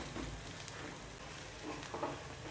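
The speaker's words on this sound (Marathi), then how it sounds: "आणि थोडंसं तळून घेऊया तेलामध्ये, म्हणजे छान वास येते भाजीचा।" Black masala frying in oil for a Solapuri peanut curry, a soft, steady sizzle with faint crackles heard alone.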